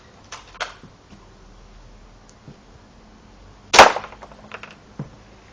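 A BB gun fires one sharp, loud crack partway through, preceded and followed by faint handling clicks and rustles, with no talking.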